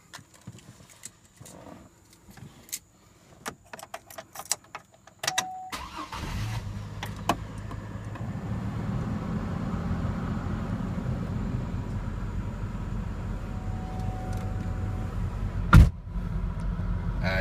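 A 2002 GMC Envoy, the two-row regular model, starts after some clicks and handling noises, its engine catching about six seconds in and settling into a steady low idle, with one sharp knock near the end.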